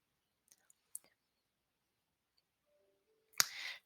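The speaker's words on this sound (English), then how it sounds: "I'll need to click the button that says Open to Attach and Submit" A few faint, sharp mouse clicks tick close by while submitting an assignment online, then a brief rustling burst near the end, with no one speaking.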